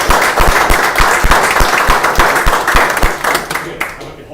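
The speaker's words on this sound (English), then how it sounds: "I think it deserves a round of applause." A small group at a county board of commissioners meeting claps close by, loud individual hand claps in a quick, fairly regular rhythm that thins out and fades toward the end.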